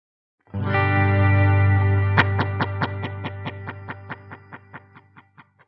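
A sustained synth tone rings out, then a Meris LVX digital delay pedal in poly structure repeats it in a steady train of echoes that fade gradually toward silence.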